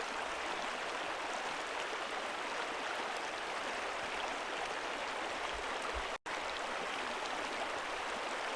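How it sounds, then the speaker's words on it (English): A fresh, murky stream of water flows steadily in the outdoors, a continuous broadband rush that stays even and close throughout, broken only by one brief dropout near the end. "you can tell it's a fresh stream of water because of how dingy it is"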